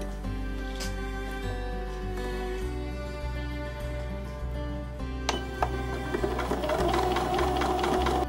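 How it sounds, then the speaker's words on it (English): A sewing machine joins pairs of quilt block pieces, running in a steady continuous drone with the motor's rhythmic stitching throughout, close and fairly loud with no talking. "I'm just going to join all those pairs together on the sewing machine."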